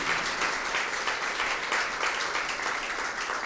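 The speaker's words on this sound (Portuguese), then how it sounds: "Vamos dar uma salva de palmas à palavra do Senhor." A church congregation gives a round of applause for the word of the Lord during a Portuguese-language evening service, a full, even stretch of many hands clapping at close range that holds steady throughout.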